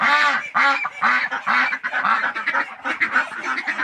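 Loud, repeated honking calls from a flock of geese mixed with quacks from ducks among them, close by, overlapping in quick succession with no speech.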